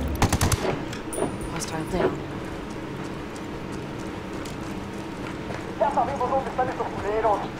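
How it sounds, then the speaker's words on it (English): Gunfire in Ghost Recon Wildlands: a quick, loud burst of shots at the start, then scattered distant reports, with voices talking over the game sounds. "Who the fuck was shooting at me?"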